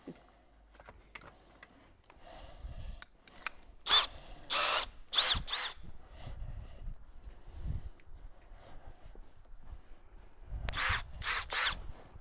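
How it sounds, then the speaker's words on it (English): A power drill working on rivets of an old Mercedes 308D truck during restoration, bursts of high whining drilling alternating with metallic clinks and handling noise, close and loud, with pauses between runs. "Let's go and get a bigger drill bit."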